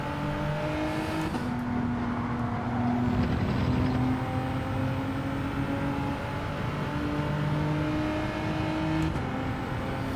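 Turbocharged Genesis G70 engine revving in Gran Turismo 7: a steady droning engine rises and falls in pitch through gear changes, loud and continuous throughout with no talking.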